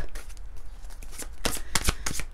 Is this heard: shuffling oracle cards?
yes